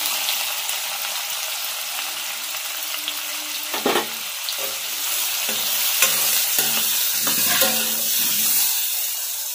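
Sliced onions hit hot oil in a pan and sizzle steadily, with intermittent scraping and clanking strokes of a spoon stirring them; a continuous hiss underlies the irregular stirring knocks, close and clear with no talk.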